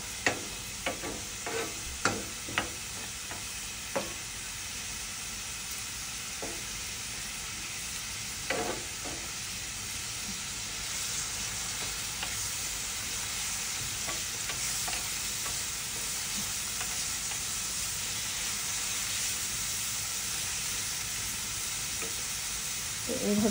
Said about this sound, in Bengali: পেঁয়াজটা ভাজা ভাজা হইতে থাক।